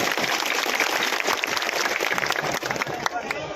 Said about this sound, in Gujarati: એ તમામ લોકો માટે જબરદસ્ત તાળીઓનો આવકાર થઈ જવો જોઈએ